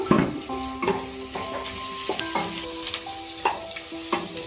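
Raw mango pieces fry with turmeric in a pan. A constant close sizzle is punctuated every second or so by scraping stirs, steady and fairly loud, with no voices.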